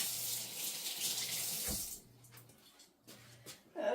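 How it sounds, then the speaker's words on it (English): Kitchen sink tap running while hands are washed, a bright rushing stream for about two seconds, then shut off, followed by a few brief splashes and a short burst of water at the end. "Wash my hands."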